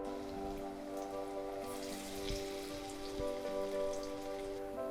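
Potato and semolina tea-time snacks deep-frying in hot oil make a steady, dense crackling sizzle with scattered sharper pops, continuous and moderately quiet.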